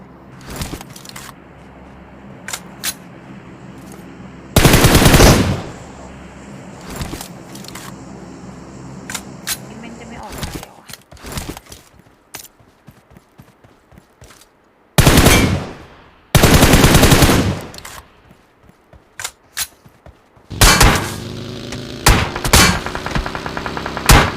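Gunfire in the mobile battle royale game PUBG Mobile, with loud close bursts of automatic fire and sharp single shots in irregular clusters, separated by quieter stretches.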